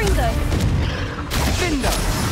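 In Hogwarts Legacy, a Confringo blast spell bursts amid a rushing, booming burst of combat effects, loud and continuous through the short stretch.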